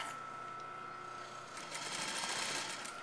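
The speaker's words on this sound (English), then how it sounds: "You're going to sew the entire underarm." Sewing machine stitching the full underarm seam of a garment sleeve at a half-inch allowance, a steady close mechanical whir that grows louder and busier midway through, with no talking.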